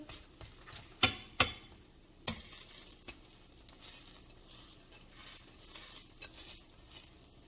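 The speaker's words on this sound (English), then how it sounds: "When it stops sizzling, then you know it's really, everything inside is cooked." Continuous crackling sizzle of zucchini fritters frying in oil, with a couple of sharp clicks early on and light stirring sounds, no voices.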